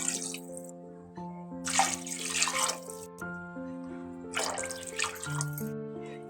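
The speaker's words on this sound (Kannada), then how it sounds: "ಅದಕ್ಕೆ ನಾನು ಡಬಲ್ ಆಗಿ 3 ಗ್ಲಾಸ್ ನೀರು ಹಾಕ್ಕೊತಾ ಇದ್ದೀನಿ" Water is poured into a cooking pot for chicken biryani rice, a splashing, gurgling pour in two surges over a sustained musical tone underneath.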